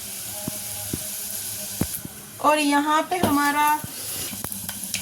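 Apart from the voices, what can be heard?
red chili tadka sizzling in hot oil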